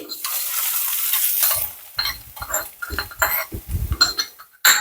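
A crackling tempering of curry leaves, chilli and shallots is tipped into an amaranth and taro-leaf thoran. A brief sizzle gives way to uneven bursts of stirring, scraping and clinks of a spoon against the pan, close and loud, with pauses between.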